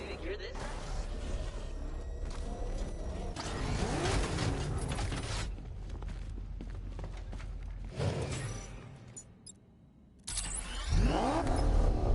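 The Batmobile in Batman Arkham Knight roars along with a steady revving engine and rolling rumble, dipping briefly before surging back loud, with voices over it.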